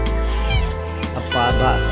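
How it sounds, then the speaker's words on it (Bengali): Several geese walking past close by at an ashram with a pond, honking repeatedly in loud, brassy calls that overlap a voice. "সামনে দেখা যাচ্ছে কতগুলো রাজহাঁস ঠিক আমার সামনে দিয়েই যাচ্ছে আওয়াজ করতে করতে"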